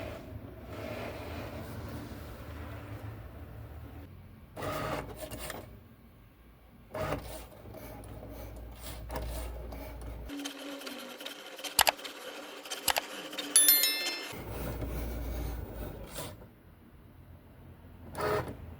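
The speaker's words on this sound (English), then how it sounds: "And my Cricut's going to do its dance and measure the mat." A Cricut cutting machine measuring its mat and cutting cardstock: quiet mechanical whirring and carriage motor runs, with brief stops and a few soft clicks and beeps, close by, no talking.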